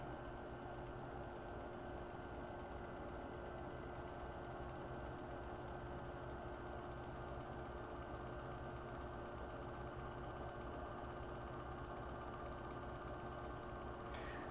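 A vacuum pump runs steadily while drawing vacuum on grease-packed wheel bearings, giving a constant close mechanical drone and rattle that keeps going for the whole stretch with no talk.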